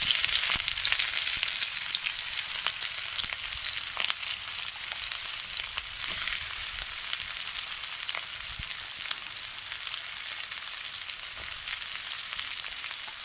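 Chopped onions fry in hot oil in a wok for a local chicken curry cooked over a fire, making a loud, continuous sizzling hiss with scattered crackles that eases slightly after the first moments. No one speaks.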